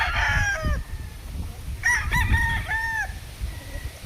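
A two-year-old Larry Romero Raptor Sweater gamefowl rooster crows twice in quick succession, loud and close, with rising and falling calls over a low rumble of background noise.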